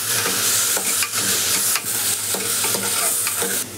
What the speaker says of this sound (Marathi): जरा हलवून घेते तूप आणि सगळं.